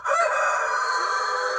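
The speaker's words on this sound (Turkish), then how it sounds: "Oğlum havada horoz mu? O da horoz." A rooster crows once, close by, in a loud sustained cock-a-doodle-doo that holds strong before trailing off, with no voices over it.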